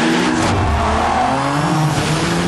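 A car drifting on a race track with its tires squealing loudly, the engine droning and revving beneath the continuous high screech, close and intense throughout.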